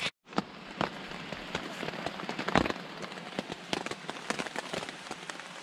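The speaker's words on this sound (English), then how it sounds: "Still raining." Steady rain patters on a surface nearby, with scattered sharper drops tapping irregularly over a continuous hiss.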